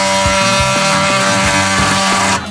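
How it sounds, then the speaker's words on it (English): A Milwaukee oscillating multi-tool cuts steadily during work on a vintage Airstream belly pan, a loud continuous buzz up close with small rhythmic bumps, cutting out abruptly near the end. "Milwaukee makes some sick products. This multi-tool is probably one of the most used ones."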